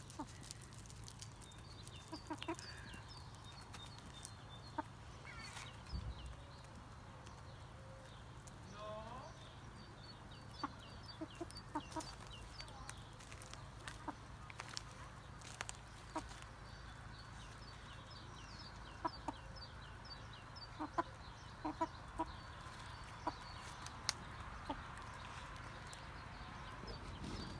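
Silkie chickens at a home in Thailand cluck softly and scratch about in the morning, with small taps and shuffles and a low hum under the scene, while someone speaks now and then.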